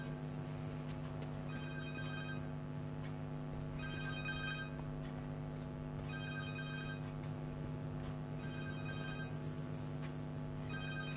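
A cell phone rings in Marvel's Spider-Man 2, a repeating electronic ringtone with short bursts about every two seconds over a constant low hum in the background.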